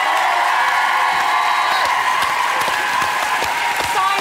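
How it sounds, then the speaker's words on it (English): Studio audience at a live talent show broadcast giving the judges a loud, continuous round of applause with some cheering, dense and sustained for the whole stretch. "Let's have a massive round of applause for our judges."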